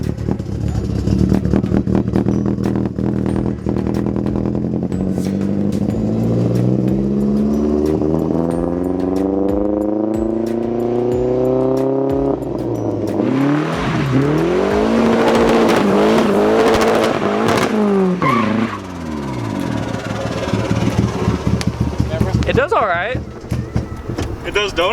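A loud race car engine running on Everclear fuel revs and drones continuously, pitch climbing and sweeping up and down through repeated accelerations, close and dominant.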